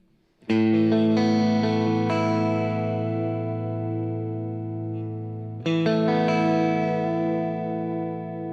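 Sustained electric guitar chords on a Suhr with a lush, shimmering dimension chorus effect, strummed twice with a long ringing decay between; no voices.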